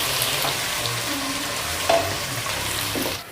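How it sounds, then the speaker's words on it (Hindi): Ginger garlic paste frying in a pan for a haleem, a steady low sizzle with faint stirring scrapes and a brief louder clink near the middle, no voices. "हमारी अदरक अच्छे से फ्राई हो चुकी है"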